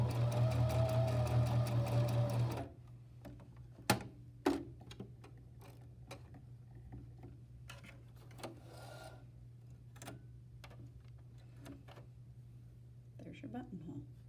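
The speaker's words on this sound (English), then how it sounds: "you're going to change it back down to the 3rd setting, and it's going to create that bar tack at the top" A sewing machine runs steadily at close range stitching the bar tack of a buttonhole, then stops abruptly after about three seconds, leaving a faint hum and scattered light clicks and ticks.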